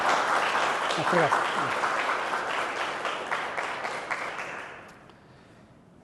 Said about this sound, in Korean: 여기 없지만 그 사람들을 위해서 감사 박수 한번 합시다